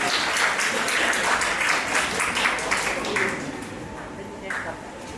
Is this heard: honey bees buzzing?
no